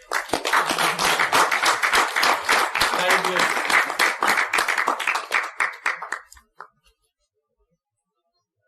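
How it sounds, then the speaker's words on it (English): Audience applause at a Toastmasters club debate meeting, many hands clapping loudly and densely for several seconds before thinning to a few last claps and silence; a voice speaks briefly over it. "Please give a big round of applause"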